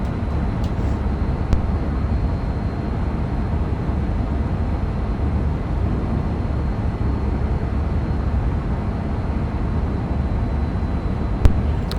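A Pendolino train passes on the West Coast Main Line, heard as a loud, steady low rumble and rush that fills the whole stretch, with a couple of faint clicks and no talking.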